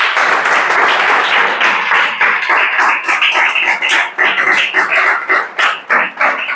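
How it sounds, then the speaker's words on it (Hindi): A class of students claps hands together in a sustained burst of dense, crisp applause, steady and loud throughout with slight fading near the end. "ताली बजाओ चलो"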